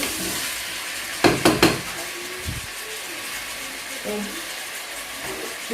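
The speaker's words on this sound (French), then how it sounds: "la marmite était déjà chaude avant de mettre l'huile. Donc je peux mettre ma viande ici." Meat dropped into hot oil in a preheated cooking pot, with a short burst of crackling and a few clattering hits near the start, then a steady sizzle underneath until the end.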